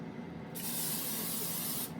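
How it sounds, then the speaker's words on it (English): A single continuous hiss of a Pam cooking spray, steady for just over a second, close and clear against a quiet background. "I am going to just spray it with some Pam."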